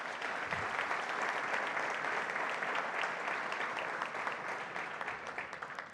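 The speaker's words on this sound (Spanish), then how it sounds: "Un fuerte aplauso para el auditor." An audience gives a strong round of applause for the state auditor of Coahuila at an official event, dense steady clapping that fills the room evenly and carries on without pause.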